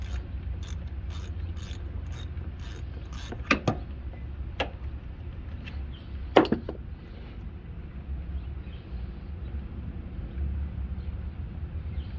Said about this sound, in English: So I'm going to pull this 10 bolt right here.